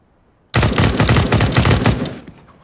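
Automatic gunfire in the video game CS:GO sounds as one sustained burst of rapid, evenly spaced shots. It is loud and close and lasts about a second and a half before a short decaying tail, with no talking over it.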